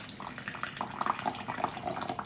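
Tea, a raw pu'erh, poured from a height into a vessel, producing a light, continuous trickling splash with small bubbling fluctuations, close and fairly quiet, without talk.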